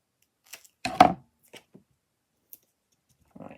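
Scissors snipping small pieces of card for a floral heart card frame, a few short close cuts spaced unevenly with quiet gaps between them.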